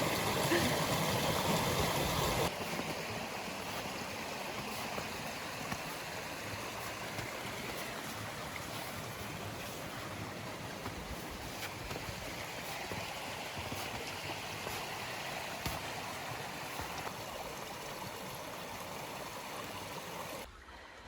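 Meltwater flows steadily by an old house in wet snow, a broad continuous rushing and gurgling heard up close with no talk.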